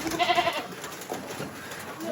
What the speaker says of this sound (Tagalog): Yung mga kambing, oh.